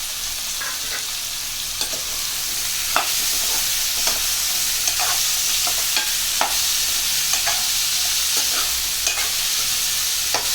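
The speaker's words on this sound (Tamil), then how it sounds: "இந்த காய்க்கு தேவையான உப்பை போட்டு நல்லா வதக்கிக்கிறோம்" A loud, steady sizzle of brinjal, drumstick and raw mango pieces sautéing with salt in a hot pan for South Indian sambar, with light scraping clicks from stirring scattered throughout, no voices.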